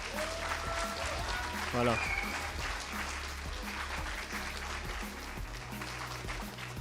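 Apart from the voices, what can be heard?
audience applauding the casters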